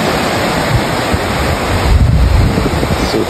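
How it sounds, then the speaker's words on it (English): Ocean waves break and wash steadily on Maracas Bay beach, a loud, continuous roar of surf with wind buffeting the microphone and no talking. "Let's take a little walk closer to them waves."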